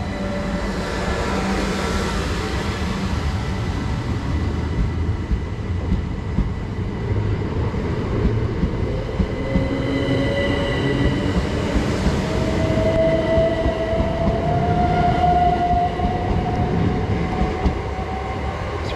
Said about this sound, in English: Departing out now is the delayed 1257 Southeastern service to London Bridge now